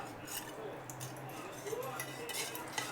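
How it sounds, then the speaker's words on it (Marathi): A spoon stirs mixed chopped fruit into milk for a homemade fruit salad, giving soft, faint clinks and scrapes against the bowl at a quiet, close level. "आता त्या दुधामध्ये सगळं मिक्स करून घेते"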